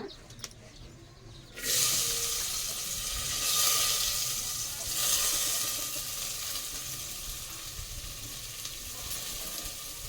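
Onion, green chilli and tomato hit a hot pan for an egg and cauliflower curry, bursting into a loud, close sizzle after a quiet start that then settles into steady frying with faint stirring.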